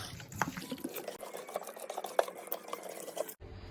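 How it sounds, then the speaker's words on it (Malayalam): Ground spices and masala for mandi chicken are mixed by hand, giving soft, irregular scraping and rubbing sounds close by, quiet and uneven, ending abruptly. "ഇതെല്ലാം കൂടെ നന്നായിട്ട് മിക്സ് ചെയ്യണം."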